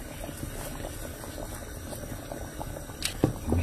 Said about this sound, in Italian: Aspettiamo che bolle. Appena bolle, metto i tubettini.